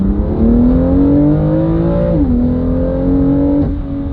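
A car with an Active Autowerke midpipe and Remus race exhaust launches, revving up with a rising, growling exhaust tone, dipping briefly as it shifts, then pulling hard again, loud and close.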